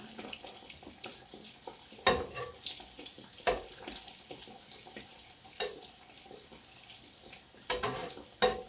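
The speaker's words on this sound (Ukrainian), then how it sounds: "я потім перевертаю і смажу вже з цієї сторони" Steady crackling sizzle of cabbage and chicken liver pies frying in oil, with occasional louder pops and clatters, fairly quiet and without voices.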